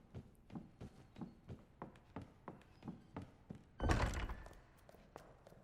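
Shelves in Resident Evil 2 Remake shift aside: a run of evenly spaced soft thunks, then one heavy, loud scraping thud that fades, all fairly faint and with no talking.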